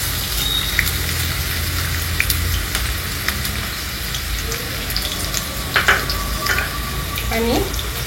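Onion fries in hot oil for pav bhaji, a loud continuous sizzle close by with a few scraping stirs and faint clatter.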